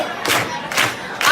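Studio audience clapping together on cue, sounding as a few sharp, loud bursts of crowd noise in quick succession.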